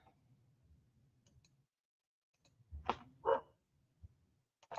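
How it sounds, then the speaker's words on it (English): Two sharp dog barks ring out close together, preceded and followed by quieter low rumbling and a few faint clicks. "we've got a dog barking"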